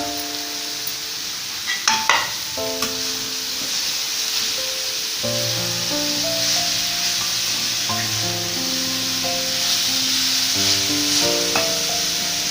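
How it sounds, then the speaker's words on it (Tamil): Shredded cabbage sautés in a pan for cabbage chutney with a continuous crackling sizzle and occasional stirring scrapes, all under steady background music. "நல்லா வணக்கி எடுத்துக்கோங்க"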